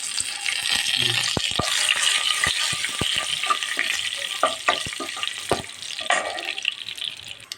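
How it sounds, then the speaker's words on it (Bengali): Whole spices, panch phoron and two bay leaves fry in hot oil, producing a loud, steady sizzle with scattered close clicks and taps from stirring throughout. "এখন এই তেলের ভিতরে আমি একটুখানি দুইটা গরম মশলা একটু পাঁচফোড়ন ঢেলে দিলাম দুইটা তেজপাতা দিয়ে দিলাম"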